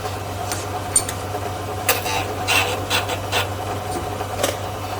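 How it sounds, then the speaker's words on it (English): Valves on a Chevy 350 small block cylinder head are ground against their seats with a close, irregular series of gritty scraping rubs and occasional sharper scrapes. No voices are heard. "now that we've got all the valves grinded"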